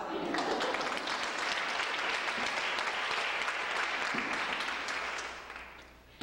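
Sustained audience applause at a 20th anniversary celebration for a women's health organization, a dense, steady wash of clapping that stays loud for about five seconds and then fades out, with no talk over it.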